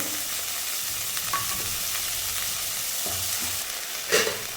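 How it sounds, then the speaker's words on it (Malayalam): Cooked horse gram being dry-roasted in a pan, giving a steady broadband sizzle with soft scraping stirs and a brief louder clatter near the end. "ഇനി ഈ മുതിര വേവിച്ചത് ഇതിലിട്ട് കൊടുത്ത് വറുത്തെടുക്കുകയാണ്"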